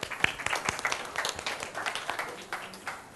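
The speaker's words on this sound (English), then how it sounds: "why don't we give a round of applause to our next set of panelists" Audience applause at a startup panel on Japanese startup culture, brisk scattered clapping of moderate loudness that tapers slightly toward the end, with no voices over it.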